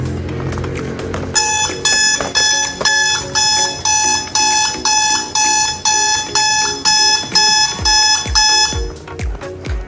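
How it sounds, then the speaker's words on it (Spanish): An alarm clock rings in rapid repeating bursts of shrill electronic beeps, loud and close, following a short stretch of softer sound and ending abruptly. "Exacto, un despertador."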